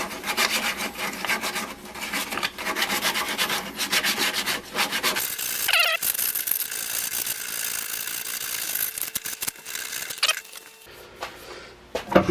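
A wooden spindle ring being sanded on a spinning lathe, giving a continuous close rasping rub with short breaks near the middle and end.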